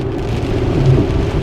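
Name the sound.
heavy rain during a car commute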